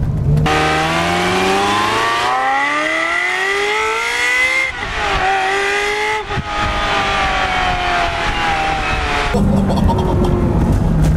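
A Ferrari 355 Berlinetta accelerates hard along a straight road, its engine note climbing loudly through several gears with brief dips at each shift, close and dominant.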